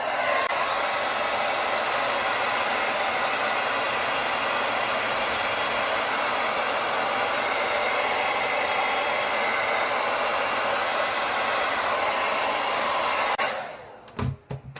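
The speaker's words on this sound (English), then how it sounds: "Now notice when I put the oil in first, I blow dried pretty heavy." A hair dryer blows steadily and loudly at close range while drying a beard, a continuous broadband rush that holds for about thirteen seconds before cutting off abruptly near the end.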